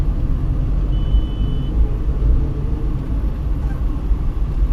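Jammed road traffic on a monsoon-season drive across Delhi from Lajpat Nagar to Dwarka, a steady low rumble of cars, trucks and buses idling and creeping nearby, with a brief faint high tone partway through.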